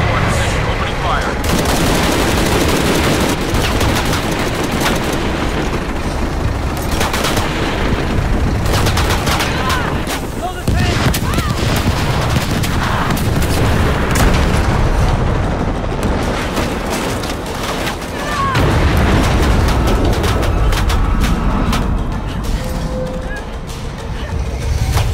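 A helicopter opens fire in Shadow of the Tomb Raider, loud sustained machine-gun bursts and booming impacts rolling on for about twenty-five seconds, with brief pauses in the barrage.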